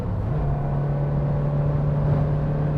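A Suzuki Jimny engine cruising near 70 mph at about 3,500 RPM hums loud and steady from inside the car, its drone stepping up in pitch as the lower gear takes hold.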